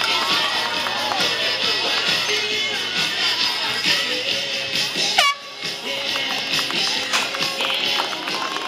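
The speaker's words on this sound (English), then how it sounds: "Give him a big round of applause, ladies and gentlemen." Crowd at an outdoor rodeo cheering and applauding after a steer event, a dense, loud wash of noise with hooves and arena sounds mixed in and a brief sharp whistle-like sweep near the middle.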